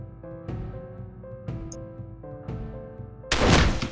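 A single gunshot cracks out in the World War II resistance game Warsaw, one sharp, loud burst rising over steady background music that has soft, regularly spaced notes.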